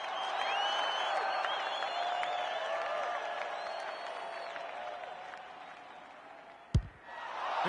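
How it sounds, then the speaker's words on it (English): A large football crowd roars and applauds after a goal at an Australian rules match, a broad sustained wash of cheering and whistles that fades slightly before a sharp thump near the end. "The crowd noise tells you all you need to know."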